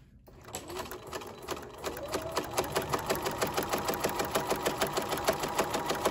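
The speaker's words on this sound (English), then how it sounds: "Now we're sewing forward all the way to the end." A sewing machine stitches the sides of a drawstring bag, starting up and settling into a quick, even mechanical chatter that grows steadier and louder, close by with no talk.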